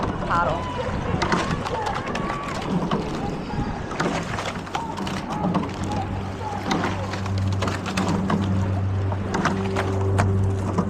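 A youth women's eight rowing shell moves through the water in a race, with steady splashing and rushing water and a low machine hum beneath. A coxswain calls out over it.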